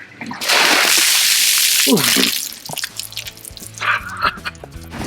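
A person plunges into an outdoor cold plunge pool in Ireland, setting off a big, close burst of splashing and churning water that settles into drips and trickles, with a voice exclaiming under the noise.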